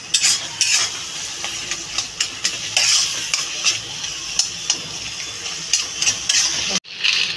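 Mango stirred in a hot, sizzling pan for a sweet-sour mango ambal; a spoon scrapes in repeated strokes over a continuous close frying hiss, loud and near.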